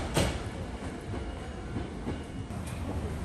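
A train ride in Japan brings a steady rumbling roar of rolling wheels with faint rhythmic clickety-clack over the rails, heard from inside the carriage without speech.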